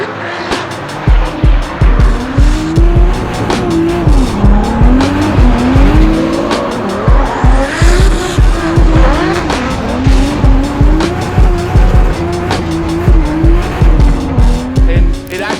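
A 1997 Nissan 240SX S14 drift car with a Kouki chassis and 2JZ engine runs loud and close, revving hard with rising and falling engine pitch, repeated bursts and squealing tires throughout.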